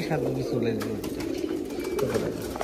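Low, rolling coos from domestic Giribaz pigeons repeat through the loft, fairly close and steady, while people speak over them.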